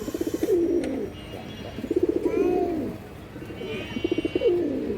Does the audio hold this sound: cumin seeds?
no